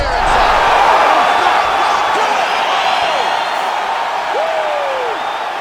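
A roaring arena crowd cheers at a UFC 5 video game mixed martial arts fight, a steady loud wash of voices with whoops rising and falling across the clip.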